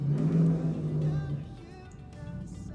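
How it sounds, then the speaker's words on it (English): Cars pass on a street outside, a loud engine swell fading away over a couple of seconds, followed by softer traffic rumble. "Every time I film, I swear to God, these cars are everywhere."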